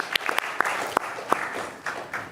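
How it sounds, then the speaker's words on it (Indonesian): Audience applause at a political talk-show gathering, a short burst of many hands clapping together with a few sharper individual claps, fairly close and loud. "kita beri tepuk tangan buat generasi Z yang terus bersuara"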